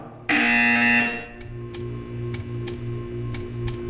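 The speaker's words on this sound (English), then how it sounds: "When you hear the buzzer, stare at the art." A loud electronic buzzer tone from the Portal 2 video game sounds for about a second, then gives way to a quieter repeating ticking pulse over a low steady hum.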